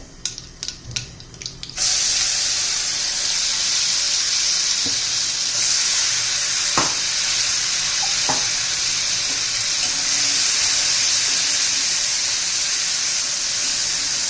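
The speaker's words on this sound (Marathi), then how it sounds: "हे बघा जिरं मोहरी तडतडली आहे" Steady loud sizzling and crackling of cumin and mustard seeds frying in hot oil, with a few sharp pops, after a brief burst of clatter at the start.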